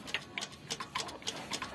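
Faint, regular clicking from a loose, wobbling timing belt tensioner in a Daihatsu Gran Max engine, about eight light ticks in an even clock-like rhythm, close but quiet.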